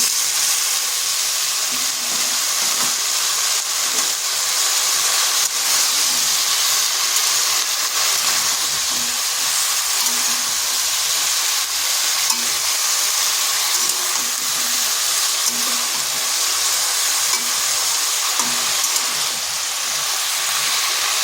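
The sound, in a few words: pumpkin greens and stalks added to frying potatoes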